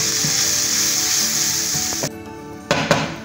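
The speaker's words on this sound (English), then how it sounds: "We're gonna keep sauteing it for about 2 minutes and we'll be back." Freekeh stuffing mixture sautéing in a pan, a loud steady sizzle that cuts off partway, followed by a few sharp stirring knocks against the pan.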